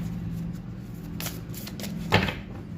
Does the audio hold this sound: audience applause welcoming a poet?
no